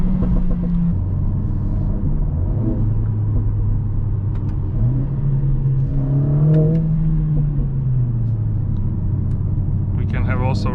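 A 2023 Mercedes CLA 45 S AMG coupe accelerating from inside the cabin, its engine droning steadily and rising in pitch through the gears, with someone talking over it near the end.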